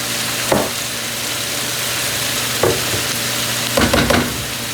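Philly chicken cheesesteak filling sautéing in butter gives a loud, dense, continuous sizzle close up, with a few spatula scrapes and stirs rising above it, and no voices.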